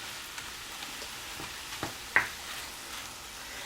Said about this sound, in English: I've got my turkey browning in my skillet here